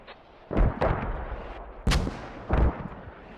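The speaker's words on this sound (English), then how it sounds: "Mortar's still coming in hot." Incoming mortar fire in a military video game, with four heavy booming impacts and explosions at uneven intervals, loud and fairly close, each with a rumbling tail.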